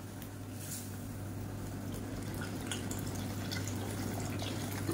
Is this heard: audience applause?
no